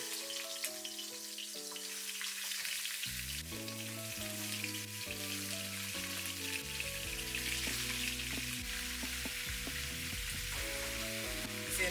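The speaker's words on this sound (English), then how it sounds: "start searing these ribs." Beef back ribs sear in hot oil in a wok-style pan, giving a loud, steady sizzle that runs unbroken throughout, with music playing underneath.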